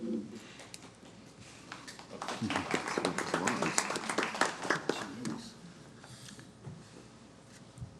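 Applause at a St Cloud city council meeting, a few seconds of moderate scattered clapping that swells and fades in a meeting room.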